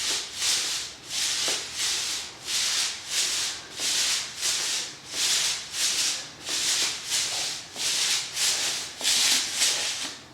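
A metal pipe rolls up and down along the shin bones, giving a rhythmic rubbing, scraping sound in about a dozen even back-and-forth strokes, close and fairly soft, with no talk.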